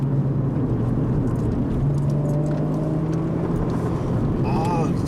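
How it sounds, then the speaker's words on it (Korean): A manual Porsche 981 Cayman at speed on the Inje Speedium track, its engine holding a steady, full low drone with shifting pitch throughout, while voices talk over it inside the cabin. "그 엔진이 꽉 차서 돌아가는 듯한 소리가 나잖아요"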